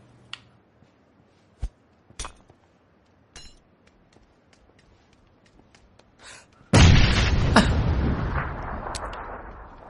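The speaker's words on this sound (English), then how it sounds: "I'm going to throw a grenade at him." A grenade detonates in PUBG on Xbox One X: faint scattered clicks and taps give way to one sudden loud blast about two-thirds through, its heavy roar slowly decaying to the end.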